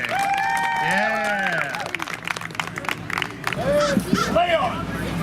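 A crowd at a medieval festival armored combat bout claps warmly. The applause is mixed with a loud announcer's voice and crowd chatter, and a brief cheer rises near the end.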